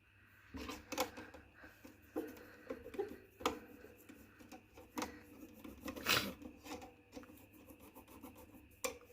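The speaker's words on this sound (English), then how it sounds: "I'm just going to go over and give all these nails a wipe" Rubbing and wiping strokes over press-on nails, a soft irregular rasping friction with occasional sharper scuffs, fairly close and quiet, with no talk.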